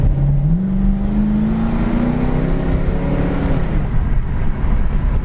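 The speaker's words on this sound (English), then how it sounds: "A lot of power. The dual exhaust sounds great." A 1968 Ford Mustang coupe's V8 engine with dual exhaust revs up steadily, its exhaust note rising in pitch for a few seconds before easing off, loud and close.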